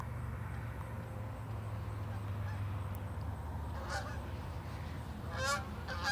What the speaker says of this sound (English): That's crazy. All damn geese.